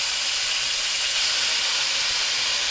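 Shrimp dropping into hot olive oil give a loud, steady, broadband sizzle that holds evenly throughout with no voices over it.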